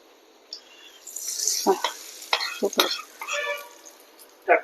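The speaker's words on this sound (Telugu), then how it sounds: "ఇది ఇప్పుడు ఇలా పోపు అలా పోసుకుంటే అయిపోతుంది" Hot spice tempering poured over mint-coriander chutney, giving a sudden close sizzle and crackle in several bursts, with short spurts of spitting, heard alone.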